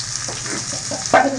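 Onions sizzle and crackle in a hot pan while cooking for cauliflower Manchurian, a close, steady frying hiss with a brief stir near the end.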